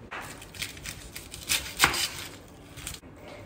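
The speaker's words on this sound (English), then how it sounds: "so I'm chopping onions" Knife chopping onions on a cutting board for instant Maggi noodles, a quiet, irregular series of crisp taps close by, with no talking.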